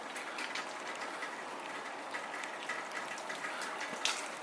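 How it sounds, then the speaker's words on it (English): Water splashes and runs off a ceramic-coated truck's paint in a steady hissing stream, with light rain patter in the background and a few sharper drips. "Look how the water just falls off."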